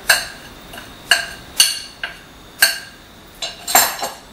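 Coconut bread batter is stirred in a bowl, with a spoon knocking against the sides in irregular sharp clinks, close and fairly loud, with no voices.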